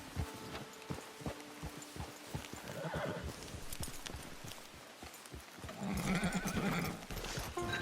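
A horse in the video game Red Dead Online clip-clops along with steady hoofbeats, then snorts and lets out a loud whinny near the end.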